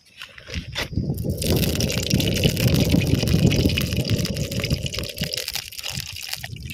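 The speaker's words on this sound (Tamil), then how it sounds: "எண்ணெய் ஊற்றிக்கலாம்" Cooking oil poured into a pan for egg masala, a steady liquid gush lasting several seconds, close and fairly loud, tapering off near the end with a few soft knocks.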